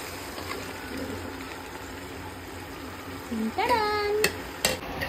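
Spices crackle in hot oil as tempering for pulao, a low steady sizzle with a few sharp clinks and a brief squeaky scrape near the end, heard close and fairly quiet.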